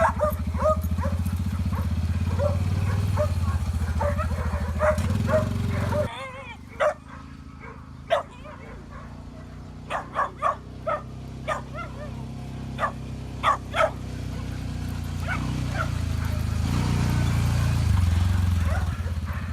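Bird dogs bark and yip in scattered bursts during field training over a steady engine rumble that drops away partway through, with barks continuing at varied distances.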